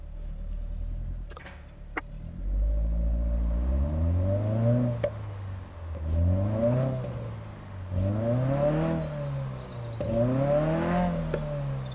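A car engine in the Drift Master racing game revs up and down in repeated rising-and-falling sweeps while the car drifts, loud and close and heard alone.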